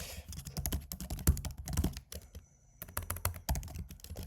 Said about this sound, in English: sometimes I feel like just typing. Just typing, no copy pasting, you know?